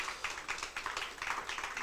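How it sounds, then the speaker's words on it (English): Audience applause at a business workshop in Alexandra, a steady wash of many hands clapping at moderate distance, with irregular louder bursts through the whole stretch. "I think that on its own deserves a round of applause"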